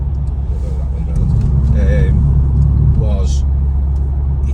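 A BMW M140 engine blips with automatic rev matching, a low rumbling drone that swells in the middle, with people talking over it.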